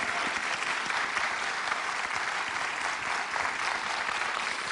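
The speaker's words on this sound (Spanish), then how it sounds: "Don Teobaldo Garay, para quien pide un aplauso." Studio audience on a TV show applauding a rescuer, a dense, steady wash of clapping that holds at an even level for several seconds without voices over it.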